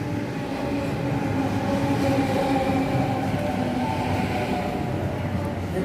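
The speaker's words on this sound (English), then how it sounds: "Fairfield service now arriving." A Sydney train pulls into the platform at Granville station at night. Its loud, continuous rumble and wheel noise hold steady throughout, with a low hum and faint tonal whine riding on top.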